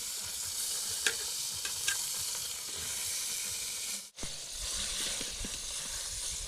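Chicken sizzles and hisses steadily in a hot pan, a close, continuous fry with a few sharp pops and a brief stir near the middle, no voices.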